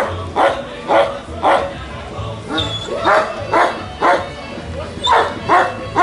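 Police dogs bark in a steady series of loud, evenly spaced woofs at an outdoor demonstration of apprehending a suspect, with a few higher yelps between the barks.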